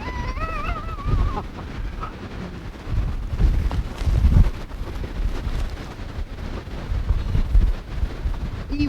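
Gusty outdoor wind buffeting the microphone in low rumbling surges that rise and fall, with a brief whistling tone near the start.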